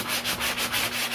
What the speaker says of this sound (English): I think I got 80 grit sandpaper here, 100 grit, some coarse sandpaper to just clean it up a bit